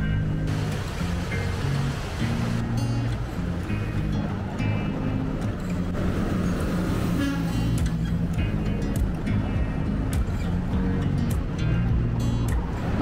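Cars passing on a road near Kootenay National Park, a steady, loud roadside rush of traffic swelling and fading as vehicles go by close at hand.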